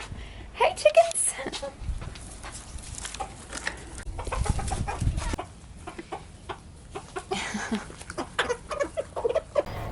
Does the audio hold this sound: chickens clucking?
yes